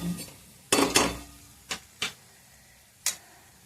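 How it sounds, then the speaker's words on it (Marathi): A pan of coriander powder is dry-roasted and stirred for a Marathi drumstick masala fry, giving a few sharp utensil scrapes and clinks against the metal, spaced irregularly over quiet kitchen background. "धनिया पावडर टाकली चांगलं भाजून घ्यायचं असं"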